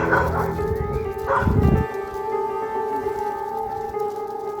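A dog on a walk gives a few short barks and yips, fairly close, followed by a quieter stretch with faint background noise and possible soft whining.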